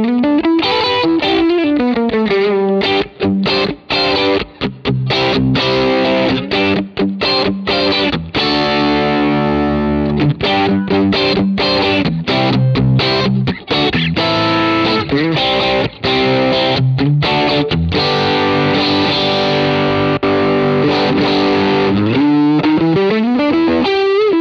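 Electric guitar played through a BOSS OD-20 pedal set to OD mode, loud overdriven chords and sustained riffs with brief gaps between strums, continuous for about twenty-four seconds.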